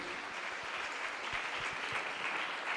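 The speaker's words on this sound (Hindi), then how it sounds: "एक बार जोरदार ताली बजा देंगे इस गवाही के लिए" A church congregation claps loudly and steadily during a worship service, dense applause filling the room throughout without any voices on top.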